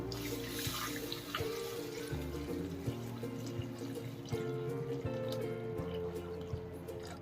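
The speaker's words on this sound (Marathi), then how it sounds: "आता टाकून घ्यायचं दूध" Milk is poured into a cooking pot for rice kheer, a steady continuous liquid stream running for several seconds over a faint tonal background.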